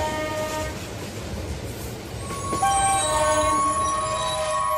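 A late-night last train starts moving again along the rails, a steady rumbling clatter that swells louder midway as a long tonal horn-like whine rises over it, with no voices.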